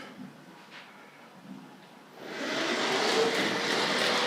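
A small model train rumbles along its track at a train collectors' show, quiet at first, then a louder steady rolling whir that swells and holds near the listener.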